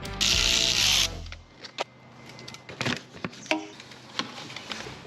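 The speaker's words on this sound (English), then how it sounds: "an inverted Torx, I think that's what they're called. But an 8mm does the same" A hand ratchet buzzes rapidly for about a second, undoing inverted Torx bolts on a BMW M4, then scattered metallic clicks and tool knocks follow at close range.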